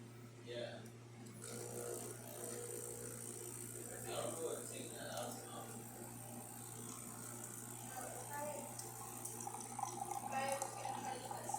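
Continuous hiss of hot water streaming from the spout of a Breville Barista Express espresso machine, with a steady mechanical hum and soft background sounds throughout.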